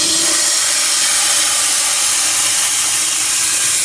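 A blower on a Stuart 5A live steam engine boiler hisses continuously and loudly, a bright, even rush of steam with no pauses and no voices.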